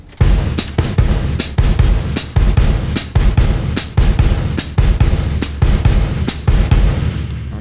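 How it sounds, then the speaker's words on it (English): Kick drum and hi-hat alternate in a samba foot pattern, with regular bright hi-hat chicks over thudding low kicks, played close and steady with no talking. "You'll go back and forth between your kick drum and hi-hat like this."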